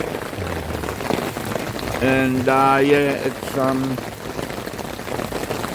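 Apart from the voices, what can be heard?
rain falling at a campsite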